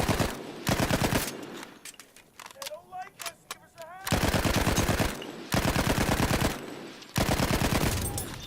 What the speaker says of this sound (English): This weapon is obviously better to burst fire